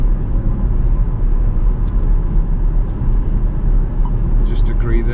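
Inside a Jaguar XF with a 5.0-litre V8 in race mode, a deep, steady engine and road rumble fills the cabin at high level, with a driver talking over it.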